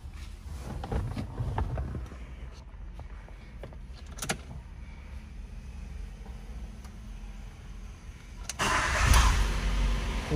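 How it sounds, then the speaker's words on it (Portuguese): A car engine is started inside a vehicle whose air conditioning does not cool and whose motor overheats; clicks and handling noises precede a loud rumbling surge near the end, with no talk. "Funcionei o carro."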